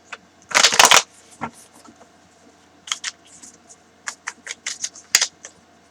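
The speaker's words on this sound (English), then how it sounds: "And I'm going to go ahead and get a card now." Tarot deck being handled as a card is drawn: a burst of quick papery shuffling followed by scattered light card snaps and taps, close and quiet with no speech.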